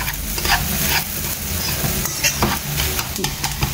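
Egg seasoned with pepper powder is stirred in a frying pan for egg Maggi noodles, with repeated scraping strokes over a steady sizzle up close.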